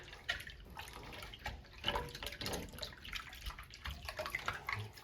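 Warm water running steadily from a tap while a toy helicopter canopy is washed, a close, continuous splashing wash with small drips and bumps throughout, no voices.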